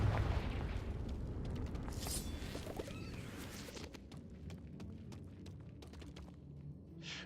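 Confringo fire-blast spell from Hogwarts Legacy going off in a faint, distant string of soft booms and pops, with crackling bursts scattered across several seconds.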